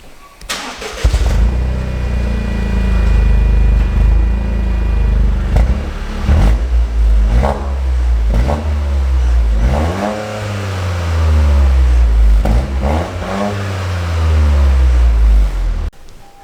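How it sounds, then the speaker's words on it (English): A Toyota GR Corolla with its stock exhaust fires up and revs repeatedly, the exhaust note rising and falling in loud throaty pulls, close by, with no talking. "I was kind of surprised at how good the stock exhaust sounds on those."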